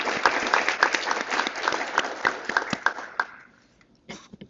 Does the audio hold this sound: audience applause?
yes